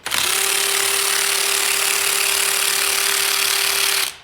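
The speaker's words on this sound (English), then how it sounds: "Where is my electric ratchet? Here we go. Make my life easy here." An electric ratchet runs steadily for about four seconds, removing bolts during a Bennche Spire 800 motor build. It gives a loud, continuous close-up whir with a steady hum and stops abruptly, with no talking.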